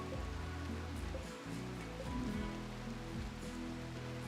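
Rain in the video game Seekers of the Sludge falls as a soft, constant patter, faint and far back, layered with quiet sustained tones and a few low shifting sounds.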